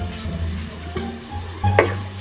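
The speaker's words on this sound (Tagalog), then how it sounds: "Then, paghahaluin. So, para mahalo ko siya ng mabuti" Onions frying in a pan are stirred with a utensil, giving a low steady sizzle with a couple of scraping knocks against the pan, the louder one near the end, close and without talking.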